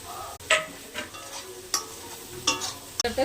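Shrimp and jackfruit seed chorchori with gourd shoots being stir-fried in a pan, a soft sizzle broken by several sharp scraping stirs of a spatula at irregular intervals, close up.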